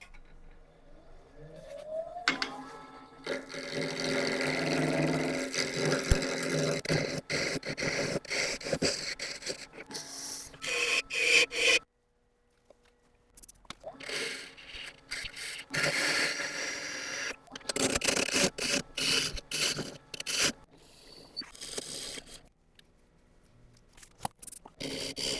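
A wooden ring is sanded by hand in close-up, with harsh, raspy scratching strokes in uneven bursts, broken by a few short pauses of near silence.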